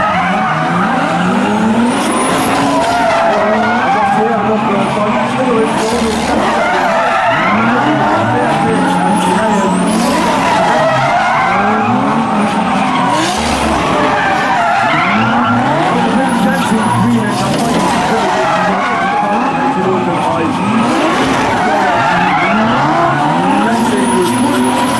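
Three BMW cars drifting together at a Falken drift team show at an expo, engines roaring hard with continuous tire squeal and skidding throughout, loud and close, with an announcer talking over the noise.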